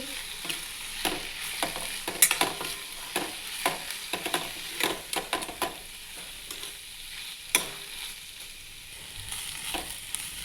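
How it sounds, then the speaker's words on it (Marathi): Mashed potatoes with onion greens stirred in a pan, a spoon scraping and knocking in an irregular rhythm over a soft sizzle, close and moderately loud, no talking. "त्यामध्ये आता कुचकरलेले बटाटे टाकून घेतलेले आहेत त्याला आपण मिक्स करून घेऊ"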